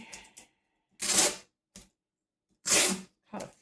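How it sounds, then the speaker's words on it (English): Sticky tape being pulled and cut during blouse pattern adjustment, two long ripping tears with short clicks and snips between them, close and alone. "we need to cut some sticky tape"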